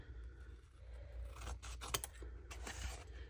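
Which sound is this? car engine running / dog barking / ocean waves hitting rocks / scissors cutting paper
scissors cutting paper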